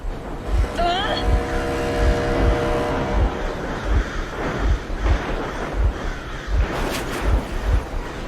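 A vehicle engine idles in the Metro Exodus video game, a steady low rumble with regular pulsing thumps, while a voice speaks and bird-like cries cut in over the noise.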